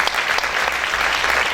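Sustained loud applause from a church congregation honoring the Lord at a baptism service, a dense, steady wash of many hands clapping with no pauses.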